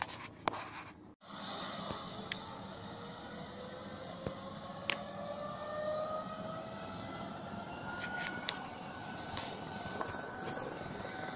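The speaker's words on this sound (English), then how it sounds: "We've got ambulances, police cars, helicopters." Sirens from ambulances and police cars wail and rise in the distance in Brighton, several overlapping in long sweeping tones over a low town rumble, with a few sharp clicks.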